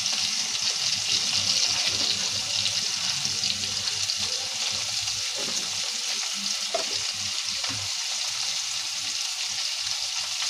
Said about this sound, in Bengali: এবার অল্প একটু নুন দিয়ে ভাজবো।